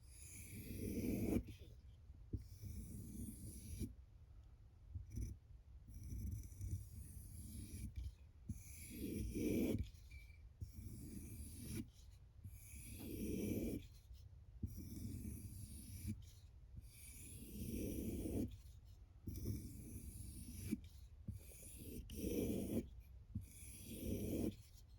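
A knife blade is stropped on suede leather to take off the burr, giving soft, repeated rubbing strokes in an even rhythm with brief gaps between passes, close and fairly quiet.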